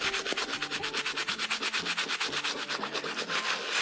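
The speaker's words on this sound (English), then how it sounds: "I'm gonna move to the soft bristle brush and give it a good scrubbing" A soft bristle brush scrubs the tongue of a 1985 Air Jordan Kentucky OG sneaker with OxiClean, making quick rhythmic back-and-forth rubbing strokes, close and steady, with no voices.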